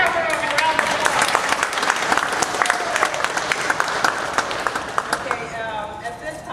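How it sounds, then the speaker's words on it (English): An audience at an IEEE presentation breaks into applause, a dense, steady crowd clapping that stays loud throughout and thins slightly near the end, with voices mixed in. "give yourself a round of applause"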